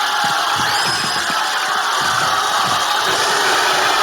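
Arena crowd in the WWE 2K26 wrestling video game roars steadily throughout, a dense, constant wall of cheering and shouting with no clear breaks.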